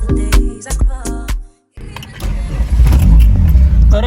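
A car with a 20-valve engine in a shop: several loud, rhythmic cranking bursts, a brief silence, then the engine catches and runs with a rough, rising rev close by.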